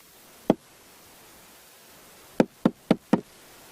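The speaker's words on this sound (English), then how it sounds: "Listen, I'm going to knock on the side." Knocks on the side of a termite mound, picked up by a microphone inside: a single sharp knock, a pause, then four quick raps in a row, dry and close against a faint hiss.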